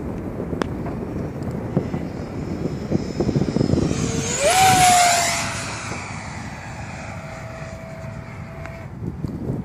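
Freewing F-104 Starfighter RC jet passing overhead, a whooshing turbine-like roar that swells and fades, with a rising then steady whine over outdoor wind noise.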